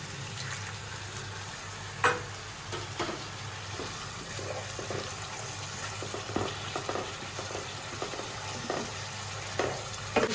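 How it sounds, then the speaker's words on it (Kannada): Milk stirred into melted sugar syrup for carrot halva, a steady low bubbling sizzle in the pan with a spoon scraping and clinking now and then, no one talking. "ಇವಾಗ ಸ್ವಲ್ಪನೇ ಹಾಲು ಹಾಕ್ಕೊಂಡು ಕಲಾಯಿಸ್ಕೊಳ್ಳಿ"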